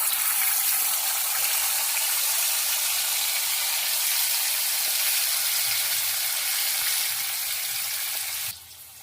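Cumin and chili spices sizzle and crackle steadily in hot frying oil for a Bengali stuffed pointed gourd dish, a loud, continuous close frying hiss with no talk, dropping off abruptly at the end.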